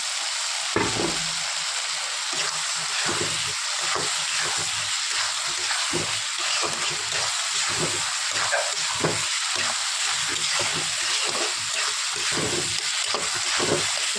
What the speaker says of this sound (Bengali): এবার আলুটা দিয়ে দিলাম আমি